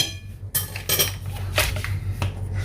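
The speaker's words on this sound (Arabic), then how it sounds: "هنا غادي نخلط المكونات مزيان" Ingredients being mixed in a bowl with a spoon, giving close clinks and scraping taps in quick irregular bursts over a low steady hum, with no talking.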